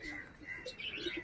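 Pigeons coo in a loft, soft repeated throaty calls mixed with light chirps over a busy, close background of bird noise; a voice may murmur faintly.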